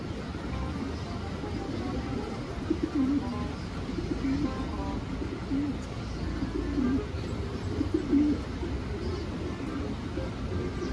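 Soft, repeated pigeon coos drift over a steady background rumble, faint and spaced out, with occasional rustling and chirps.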